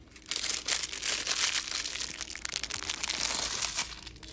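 A wrapped breathalyzer straw being torn from its plastic packaging, close crinkling and crackling with rough tearing bursts over a few seconds.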